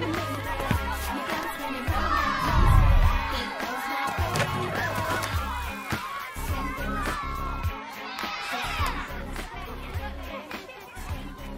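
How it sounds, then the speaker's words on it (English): Crowd cheering and chattering at a basketball game in the movie Catwoman, busy shouts and whoops with a loud burst early on, mixed with voices throughout. "They're cheering this game on like this is just some crazy ass game going on."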